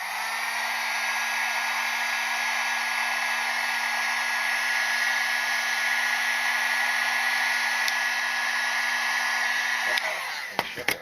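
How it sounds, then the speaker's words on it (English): Heat gun blowing steadily to shrink heat shrink hose clamps, a loud constant whine and airflow roar lasting about ten seconds before switching off with a few handling clicks, no talk. "just because it's a heat gun and you have more control over the heat, be careful"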